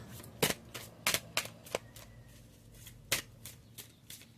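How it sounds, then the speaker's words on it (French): Oracle cards from a deck being handled and shuffled, with a series of sharp papery riffles and snaps at irregular intervals, close by and fairly quiet, with no voice. "Je vais prendre une carte avec les messages lumière."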